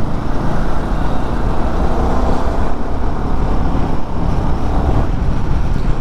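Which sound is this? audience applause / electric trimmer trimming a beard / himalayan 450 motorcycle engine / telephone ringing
himalayan 450 motorcycle engine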